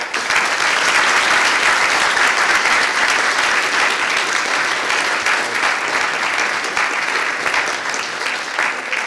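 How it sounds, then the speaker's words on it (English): At a high school science day, the crowd applauds a speaker after a talk on DNA origami, with loud, dense clapping that stays sustained and even for about nine seconds. "another round of applause for him"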